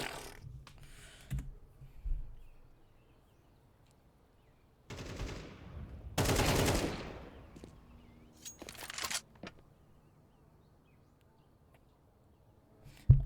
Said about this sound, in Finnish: Se ei kuole, ampuu minua.